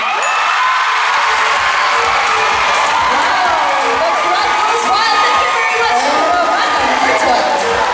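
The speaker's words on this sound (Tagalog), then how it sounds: "The crowd goes wild for Paramata number 12" A pageant crowd at the Paramata 2025 coronation night cheers and applauds, a dense continuous roar of clapping, shouts and whistles filling the hall, with voices in the mix.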